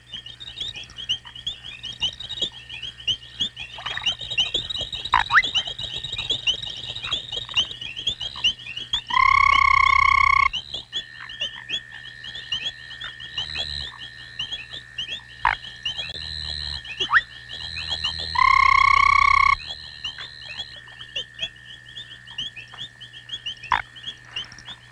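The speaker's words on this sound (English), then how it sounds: "In a tree over the pond, a pair of foam frogs are making their nest." Foam frogs croak near a pond, their calls coming from a tree above the water: a steady chorus of repeated calls, with two louder, longer tonal croaks rising out of it.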